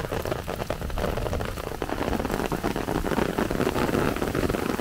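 The first rain after months of drought falls on a new country road surface near a pond: a dense, steady patter of drops, close and loud, with no voices.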